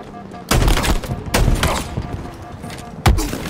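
Gunfire from a weapon in the video game Halo, with three heavy broadband blasts at irregular intervals. Each is followed by a busy, rumbling tail, and speech-like sounds mix in.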